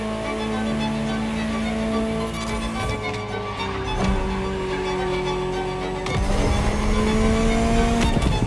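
Ferrari supercar engine in the racing game The Crew Motorfest, a steady loud drone with shifting tones and a few gear-change steps, cruising and then pulling harder near the end, with no talk.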